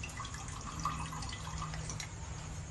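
Water runs and trickles steadily in a kitchen while a fruit dish is prepared, a continuous close wash of liquid with faint drips and a low background hum, with no talking.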